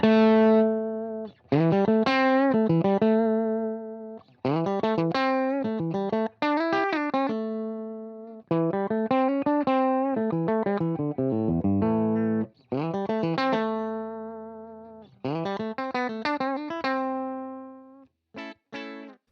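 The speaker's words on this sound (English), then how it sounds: "So you don't lose much treble as you turn your volume knob down," Electric guitar with 50s-style wiring and its volume knob turned down, playing clean, bright chord phrases and riffs in short bursts with gaps, clear and close with no voices.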